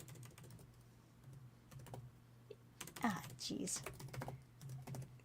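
Scattered keystrokes on a computer keyboard come in short bursts over a low hum, and a man briefly mutters an exclamation partway through.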